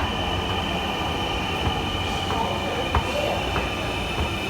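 A Dhaka metro rail train pulls into the platform, a loud continuous rumble and steady mechanical hum with faint squeals and clicks from the wheels filling the whole stretch.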